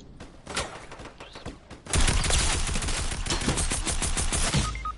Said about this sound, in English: Some guy's trying to shoot at me.